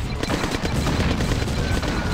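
Dense, continuous gunfire and explosions from combat units in the Command & Conquer: Red Alert 95 strategy game, a loud rapid barrage lasting throughout with no pauses.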